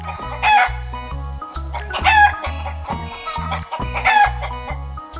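Chickens on a farm among yellow hay in a green garden, with repeated loud crowing and clucking from close by, set over a rhythmic pulsing musical backing.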